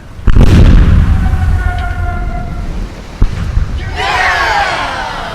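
A ship's cannon volley fires in the Corsairs Liberation game, a loud, booming blast that rolls into a long rumble, followed by a sharp second crack and splashing, crashing debris.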